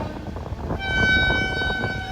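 A Vijayawada–Chennai Vande Bharat train rushing past at speed, a loud, close rumble that swells midway as a sustained horn tone joins it.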